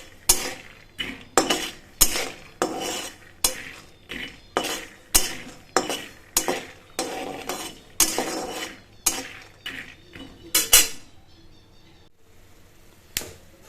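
Raw peanuts frying in hot oil produce a run of sharp, irregular crackles and pops, each burst loud and separate, easing off toward the end.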